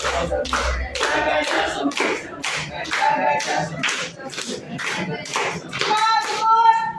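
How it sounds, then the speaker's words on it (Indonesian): Children in a classroom clap their hands in a concentration clapping game, a run of sharp, close claps in quick bursts, loud and bright, with some voices mixed in. "Tepuk tangan."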